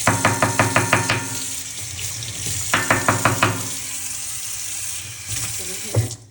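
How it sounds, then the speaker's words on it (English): Tap water runs into a sink while a brush is rinsed under it, with a series of quick scrubbing or tapping bursts near the start and again midway, ending in a short splashy clatter. "Rinse the brush."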